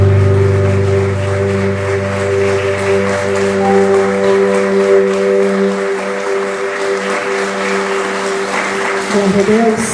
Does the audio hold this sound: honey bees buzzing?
no